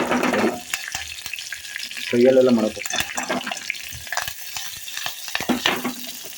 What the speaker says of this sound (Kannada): ನೆಕ್ಸ್ಟ್ ಒಗ್ಗರಣೆ